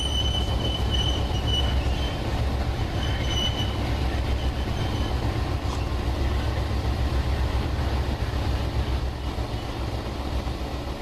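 An Amtrak passenger train passes close by in West Central Virginia, a loud steady rumble of railcars rolling along the tracks with occasional high wheel squeals throughout.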